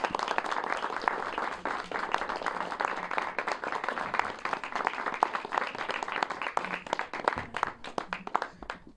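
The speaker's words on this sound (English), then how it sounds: "So you guys give yourselves a round of applause." Audience applause at a student TV live night event, a dense, steady clapping that stays loud and continuous throughout, with a few sharper claps standing out near the end.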